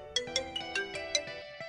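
A mobile phone ringtone plays a repeating melodic pattern of bright electronic tones at moderate volume, with no voices over it.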